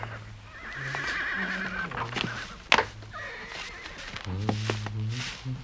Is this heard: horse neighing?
yes